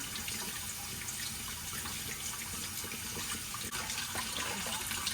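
Hot water runs steadily from a tap into a bowl, a continuous splashing gush with no voices.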